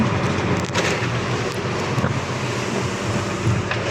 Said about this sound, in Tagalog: Grabe ang alon yan guys.